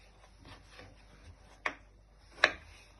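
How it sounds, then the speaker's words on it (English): A knife trims and halves fresh strawberries on a board for a Victoria sponge topping, giving two sharp, close cuts in a quiet kitchen with soft rubbing between them. "So you're just going to trim your strawberries and chop them in half."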